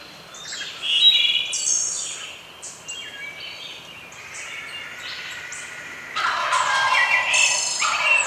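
Wild turkey gobblers gobble during an outdoor turkey hunt in Ohio, repeated rattling gobbles that come in bursts, one near the start and a louder, denser run toward the end, alone in quiet woods.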